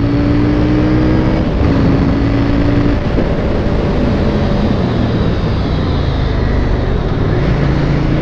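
CF Moto 800 NK motorcycle accelerating, its engine a loud, continuous drone with shifting tonal pitch that fills the whole stretch, close and steady with no talk over it.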